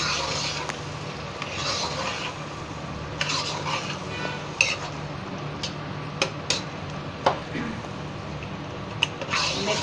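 Six eggs being stirred into potatoes in a pan for aloo anday ki bhujia: steady scraping and stirring with scattered sharp utensil clicks against the pan, over a faint sizzle.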